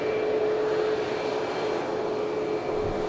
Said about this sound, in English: We have an ATR of Erlingus, the third daily flight of the ATR coming in from Belfast.